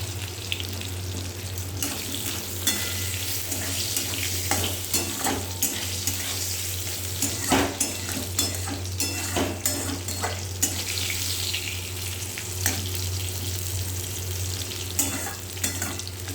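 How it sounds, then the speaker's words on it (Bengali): White eggplant frying with black cumin in a pan, a steady, close sizzle with frequent crackles and stirring scrapes, under a low steady hum and without talk. "কালো জিরা দিয়ে সাদা বেগুন ভাজা"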